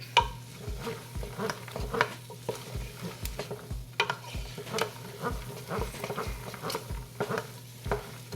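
Vegetables with onions and garlic being stirred in a pot of oil for celery soup, a steady sizzle under repeated scraping strokes of a spoon against the pot, close and moderately loud with no talking.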